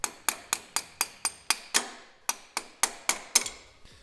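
Hammer blows knocking a ball out of a pedal, a close series of about a dozen sharp metallic strikes in a steady rhythm with one short pause partway through.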